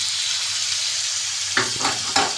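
Boneless chicken cubes hit a pan of hot garlic ginger paste and fry with a steady broadband sizzle, then three sharper bursts of spattering follow, likely as pieces are added and stirred.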